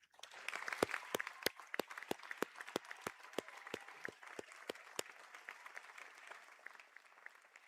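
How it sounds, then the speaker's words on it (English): Audience applause for graduates at a college conferring ceremony, steady clapping from a seated crowd with some louder individual claps standing out, lasting several seconds and tapering slightly. "to stand if they are able for a round of applause."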